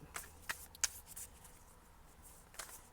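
A few quick, crisp shuffles and flicks of tarot cards, short rustling bursts spaced irregularly against a quiet background.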